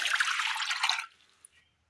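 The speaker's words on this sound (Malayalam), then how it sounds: "അടുപ്പത്തൊരു ചട്ടി വെച്ച് കൊടുത്ത് അല്പം വെള്ളം ഒഴിച്ചു കൊടുക്കാം." A short burst of water pouring into a cooking pot on a stove, lasting about a second, followed by a faint drip and quiet.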